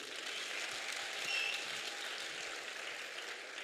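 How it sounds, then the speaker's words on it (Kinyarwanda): Sustained applause from an audience at a church testimony gathering, steady and dense clapping throughout with a brief swell near the middle, no voices over it. "kandi mumuha amashyi rwose."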